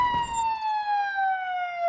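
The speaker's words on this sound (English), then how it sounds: "that siren keeps on going" Police car siren in a police patrol simulator game, one continuous wailing tone slowly sliding downward in pitch, fairly loud and close, with a brief burst of mechanical noise at the start.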